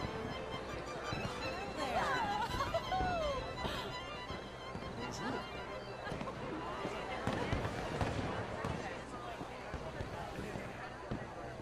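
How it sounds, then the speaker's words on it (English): Fireworks in the video game Red Dead Redemption 2 whistle, crackle and pop continuously at a moderate distance, with people talking over the celebration. "Let me enjoy the fireworks."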